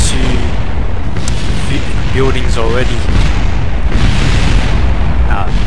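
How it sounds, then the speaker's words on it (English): Video-game explosion of an MK3 liquid fuel fuselage in Kerbal Space Program, a loud sustained booming rumble that fills the whole clip while someone talks over it. "The explosion radius is crazy."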